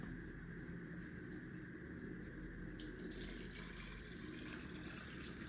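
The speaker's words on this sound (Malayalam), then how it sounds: "ഇനി ഇതിലേക്ക് ചേർക്കണത് അരി കഴുകിയ വെള്ളം." Rice-washing water poured into a bowl of crushed rose petals for homemade fertilizer, a steady continuous splashing pour at close range with no talking.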